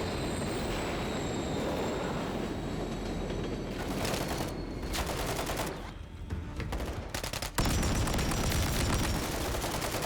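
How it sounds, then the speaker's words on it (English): A train rumbles past with continuous dense wheel and carriage clatter and squealing in the Call of Duty: Modern Warfare III campaign, loud and close, with gunfire bursts mixed in. "Trying to keep track of this train"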